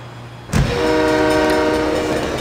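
A train from SimCity 3000 rolls in with a sudden loud horn-like blast, followed by a steady sustained drone of rail cars, with no voices.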